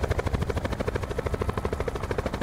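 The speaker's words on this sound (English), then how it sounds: "Yeah, it was hitting the helicopter." A helicopter in the video game Call of Duty Black Ops 4 Blackout thumps with steady, fast rotor pulses, loud and continuous, with no talk over it.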